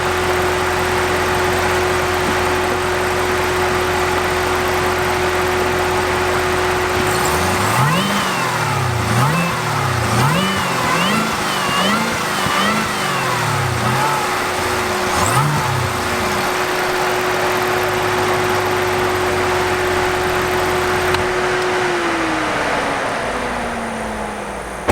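A supercharged 6.2L V8 in a Chevrolet Camaro ZL1 idles loudly, then is blipped through several sharp revs with a rising supercharger whine before settling back to a steady idle up close.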